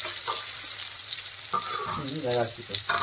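Eggplant frying in a pan with a steady sizzle, stirring and scraping sounds, and a brief voice partway through.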